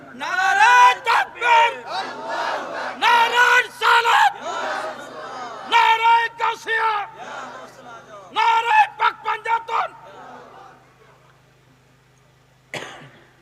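Crowd at a rally shouts slogans in call-and-response, loud bursts of many voices rising and falling in waves, with pauses between chants and a lone voice near the end.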